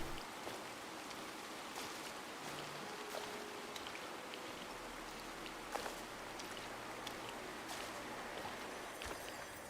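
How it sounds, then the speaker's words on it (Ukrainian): Soft, quiet rainfall patters outside, with scattered sharper drips and taps standing out from the gentle background hiss. "На вулиці дощ"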